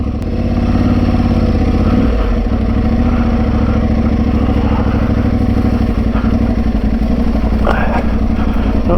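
An Aprilia Tuareg 660 motorcycle rides down a dirt trail, its mid-range engine thrumming steadily and loud throughout at low speed, with rough pulsing texture and bits of rustling from the terrain.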